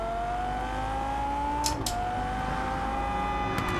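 A car driven in the Test Drive Unlimited racing game, its engine holding a steady, rising tonal drone with a brief gear-change dip midway, loud and continuous with no talk.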